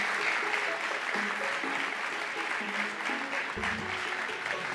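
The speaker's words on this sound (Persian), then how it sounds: "تشویق بکنید" Audience applause at a family stage event, a steady wash of clapping from a crowd that holds for the whole stretch, with faint music or voices underneath.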